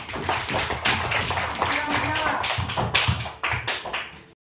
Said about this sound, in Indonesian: Oke, tepuk tangan untuk Hafiz.